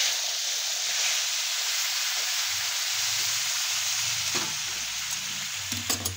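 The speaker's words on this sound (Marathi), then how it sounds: "आपण जे पाणी उकळायला ठेवलंय ते याच्यामध्ये ओतून घ्यायचे" Boiled water hitting semolina roasting in a pan for upma, giving a loud, steady sizzling hiss throughout, with a few soft clinks and stirring knocks toward the end.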